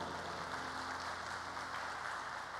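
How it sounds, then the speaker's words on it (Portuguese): Church congregation applauding at a business gathering during a sermon, a continuous, even wash of many hands clapping, moderately distant and steady throughout without a break. "Dê uma salva de palmas ao Senhor."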